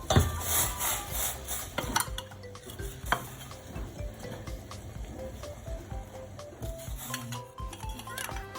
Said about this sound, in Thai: เราคนให้กะปิละลายนะครับ